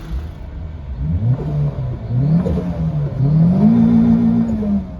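A turbocharged Honda Odyssey RB3 running on E20 fuel with a remapped stock ECU revs hard in a tuning shop. Several rising engine sweeps climb and hold, each louder than the last, close and loud with no talking.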